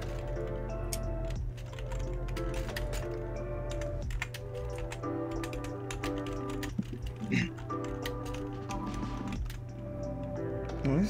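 Rapid, uneven clatter of keys on a computer keyboard, close and fairly quiet, running in bursts over a steady electronic hum and faint background music.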